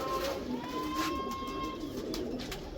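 Jonsiri pigeons coo softly in a loft, a few low rolling calls close by and fairly quiet, with faint chirps around them and no talking.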